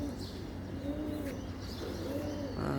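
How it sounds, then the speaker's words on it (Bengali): Pigeons coo from a neighbouring building in the morning, their soft rolling calls repeating steadily over a constant low background hum with a few higher chirps mixed in. "পাশের বিল্ডিং এর কবুতরের ডাক খুবই ভালো লাগে শুনতে।"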